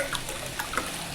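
Water is poured into a small pan on a lit gas stove before Maggi noodles go in: a brief, fairly quiet splashing and trickling with no voices.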